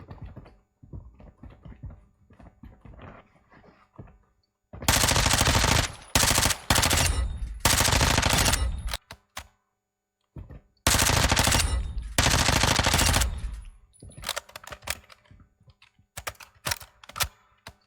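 A Lachmann Sub submachine gun fires in Modern Warfare 2. Two loud, sustained automatic bursts with short breaks are followed by quicker, choppier shots, and there is no talking.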